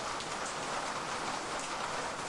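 Steady rain in the video game Kiosk, a dense, even hiss of falling drops with no voices.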